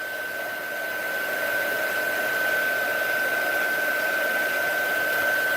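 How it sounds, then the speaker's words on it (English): A small desk fan runs steadily nearby to dry leather edge paint, giving a constant broadband whoosh with a faint steady whine, even and unbroken throughout. "The best practice is just to use like a small desk fan like this, which is what I use for drying things sometimes."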